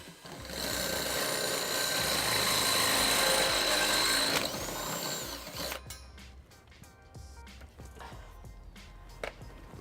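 A power tool whirs steadily for about five seconds while driving a 1/2 inch socket onto trailer hitch bolts under a 2011 Ford Edge, then stops, followed by faint clicks and handling noises.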